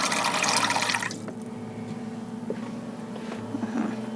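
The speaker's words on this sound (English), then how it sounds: "we are loving the filtered water because we can just shoot it right from the tank" Filtered water from a camper van's onboard tank pours out in a strong, close rush for about a second, then stops, leaving faint drips and small trickles.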